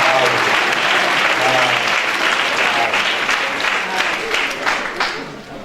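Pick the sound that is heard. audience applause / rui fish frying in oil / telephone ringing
audience applause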